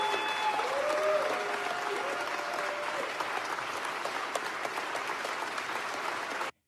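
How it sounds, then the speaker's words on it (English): Thunderous applause from a large crowd, dense and sustained clapping at steady loudness throughout, with a few faint tones early on and no speech over it. "So this is how liberty dies, with thunderous applause."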